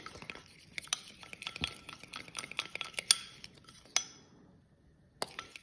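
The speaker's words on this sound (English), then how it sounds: "you just have to keep stirring it" A spoon stirs a white chocolate mixture in a bowl, making quiet, irregular clinks and scrapes against the bowl with brief pauses between strokes.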